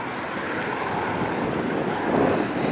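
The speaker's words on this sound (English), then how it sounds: "Alright, so PC-12 is now up and away" A Pilatus PC-12 turboprop climbing out after takeoff at an airport, its steady broadband engine roar sustained throughout and swelling slightly near the end, with some wind noise on the microphone.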